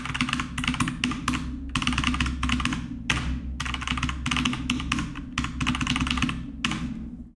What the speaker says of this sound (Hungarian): Gépelésed hangja is zene?